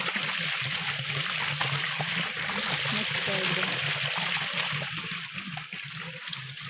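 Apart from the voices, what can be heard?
river water flowing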